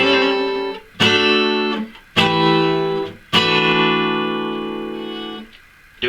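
Electric guitar playing a 12-bar blues sequence in E, with four strummed chords ringing out one after another, the last held and slowly decaying, no talking.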